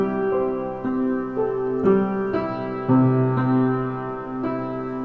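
Gentle piano notes unfold slowly and smoothly, each ringing softly into the next in a calm, singing melody with no talking.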